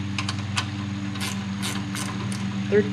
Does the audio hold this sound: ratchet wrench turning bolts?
yes